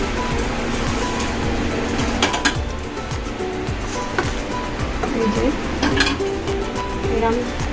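Egg-dipped toast fries in a pan, giving a constant loud sizzle broken by several scraping, clinking spatula strokes, while a voice speaks faintly in the background.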